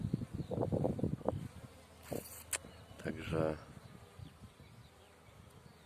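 Honeybees hum faintly and intermittently at a hive entrance on a cool May day in the Małopolska foothills, with sparse flight; someone speaks briefly near the start.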